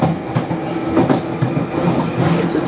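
A London Underground Jubilee line train runs at speed, a loud, continuous rumble with a rhythmic clickety-clack of wheels over rail joints and no voices above it.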